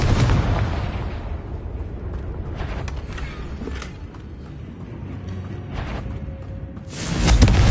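Fiery explosion spell blasting in a video game, a loud sustained roaring burst with crackling debris, the blast swelling again at the end amid repeated spellcasting.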